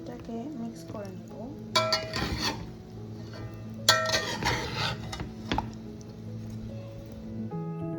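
Bottle gourd and shrimp stirred together in a cooking pot, with wet squishing, scraping spoon strokes and clinks against the metal in a few bursts, over a soft background hum.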